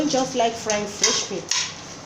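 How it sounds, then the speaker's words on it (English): Utensils clink and scrape against a bowl in short bursts as food is stirred and mixed, close by and moderately loud. "Then I'm going to mix it together."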